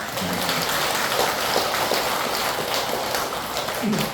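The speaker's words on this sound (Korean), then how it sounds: "우리 회장님, 우리 회원들, 우리 신도님들 큰 박수 한번 같이 쳐주시기" A Buddhist temple congregation applauds after a Dharma talk, a broad, steady wash of many hands clapping together at moderate volume for the full few seconds.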